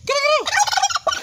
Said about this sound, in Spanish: Aquí tenemos un pavo y en México le dicen guajolote, que nos va a saludar.